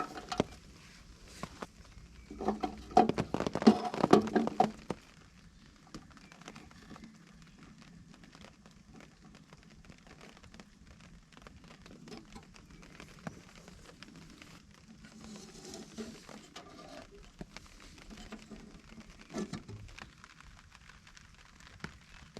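Rain falling steadily in a woodland bushcraft camp, a soft continuous patter on leaves and a tarp, with a louder rustle of handling early on and faint movement throughout.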